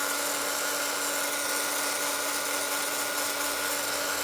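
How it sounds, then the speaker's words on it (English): Heat gun blasting steady hot air to dry a mixed-media altered-flower craft piece, a continuous loud whining hiss with a constant tone that holds without a break and has no talking over it. "I do apologise for the noise of the heat gun."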